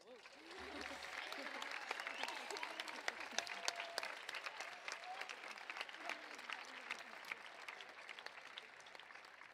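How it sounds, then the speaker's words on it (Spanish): Audience applause after a live concert at La Vall d'Alba, a dense clapping crowd building up then sustained, fairly distant and soft, with a few voices mixed in. "pels seus generosos aplaudiments"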